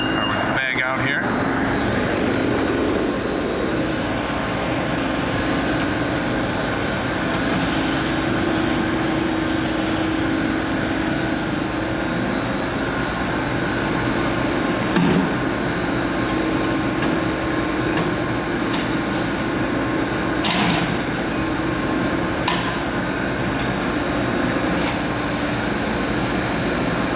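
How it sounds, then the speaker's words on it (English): Continental Rollo-Mixer loaded with three tons of beef feed runs with a loud, continuous mechanical rumble and drone close by, with occasional clanks, while people talk over it. "I got 3 ton of beef feed in this mixer, new mixer right now."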